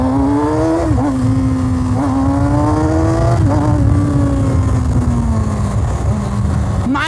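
A Kawasaki Ninja ZX6R 600cc superbike accelerates hard, its engine note climbing through the revs with brief dips at gear changes, loud and close throughout.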